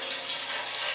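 A little water splashed into heating cooking oil gives a steady, loud hissing sizzle that holds evenly throughout, with no voices.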